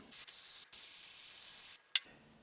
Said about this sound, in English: spray each of these, get about a 1/4 inch or so in each cup